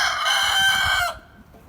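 A young Liven calico rooster crows once, loud and close, a drawn-out strained call that cuts off after about a second, leaving quiet background.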